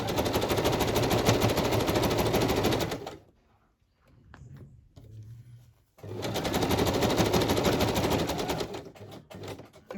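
A sewing machine backstitching through fabric for a fabric journal page, a loud, fast mechanical rattle running for about three seconds, pausing with faint handling noises, then stitching again steadily to the end.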